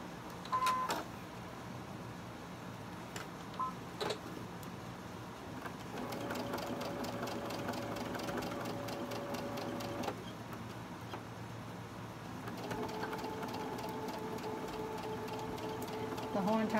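Sewing machine stitching a quilted teacup block, several runs of rapid, even mechanical stitching with pauses between them, fairly quiet and close.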